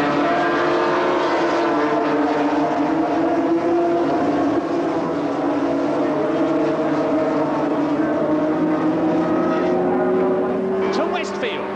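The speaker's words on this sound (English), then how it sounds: "it's Baker leading Mick Grant, Yamaha leading Kawasaki, American leading Englishman, and Dave Potter in 3rd position." Yamaha and Kawasaki 750cc racing motorcycles at a 1977 Brands Hatch race make a continuous loud engine drone, and one machine's pitch climbs near the end while a commentator talks over it.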